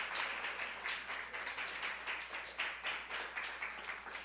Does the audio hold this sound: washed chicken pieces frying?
no